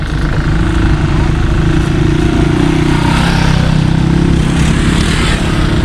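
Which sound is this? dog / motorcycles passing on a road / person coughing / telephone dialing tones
motorcycles passing on a road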